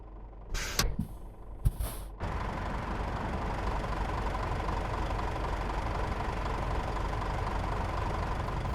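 A Scania truck engine idles steadily in Euro Truck Simulator 2 on a winter run to Pori, Finland, a constant low rumble after a few brief sharp clicks at the start.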